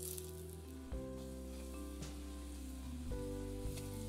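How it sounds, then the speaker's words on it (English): Pork pieces seasoned with salt, pepper and flour fry in canola oil in a cast iron pan, a soft steady sizzle sitting beneath sustained musical tones. "we're gonna get this fried up, crisped up"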